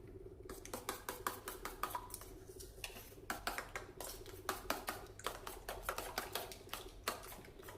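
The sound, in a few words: mixing two eggs in a bowl for omelette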